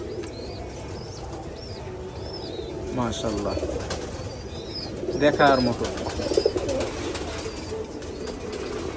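Pigeons at a farm show coo and flutter in the background, soft and steady, while someone speaks over them in the middle of the stretch.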